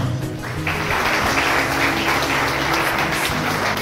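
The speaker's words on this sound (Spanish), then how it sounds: "Le damos un fuerte aplauso." Audience applause fills an award ceremony honoring local journalists as distinguished sons of San José, a dense, steady clapping that holds on for several seconds with no speech.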